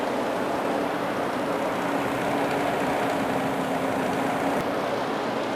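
A Nissan Xterra engine idles high with a steady, loud, dense drone and a constant rattling texture underneath, unbroken throughout and heard close, with no talking.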